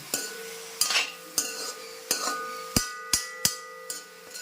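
A spoon clinks and scrapes against a pan while stirring carrot and beetroot thoran, in roughly eight sharp metallic knocks at an uneven, unhurried pace, close and clear without talk.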